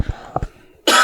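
A few short, sharp coughs from a person close by, two quick bursts followed by a pair in rapid succession, then a louder burst of noise at the end.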